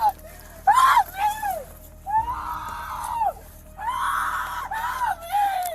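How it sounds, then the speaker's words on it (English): A woman screams repeatedly in loud, drawn-out, wavering cries during a police arrest involving a taser, each scream close and piercing, separated by brief pauses. "She screamed, collapsed, and students stood shocked in silence"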